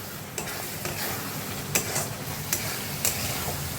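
Spice paste (masala) with onion stirred and frying in a pan for a fish curry, a steady close sizzle broken by a few sharp scrapes of the spoon against the pan, with no talking.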